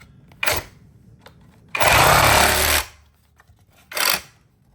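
A cordless electric bag sewing machine, a heavy-duty portable bag closer, runs in one loud buzzing stitching burst of about a second, with a few shorter mechanical clicks and whirs before and after it.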